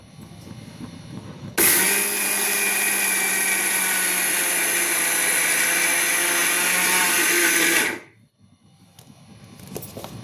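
A kitchen mixer grinds sesame seeds with Kashmiri chili in one short, loud, steady burst of whirring lasting about six seconds, starting and stopping abruptly, with no talk over it.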